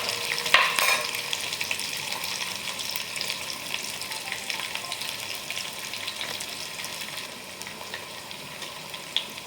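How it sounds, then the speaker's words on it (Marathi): Onions frying in a pan, stirred until browned: a steady soft sizzle with scraping stir noises throughout, including a sharp clatter near the start and a small knock near the end. "आता हे कांदे वगैरे थोडेसे छान फ्राय झालेले आहे"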